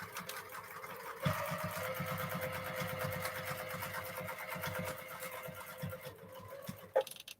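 A domestic sewing machine stitches at a steady, rapid mechanical rhythm, locking the thread, close and continuous for several seconds before a sharp clack near the end as it stops.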